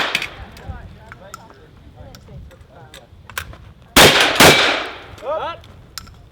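Gunfire at a cowboy action shooting match stage, with a string of sharp shots and metallic target clangs, followed by two loud close blasts, while people talk in the background.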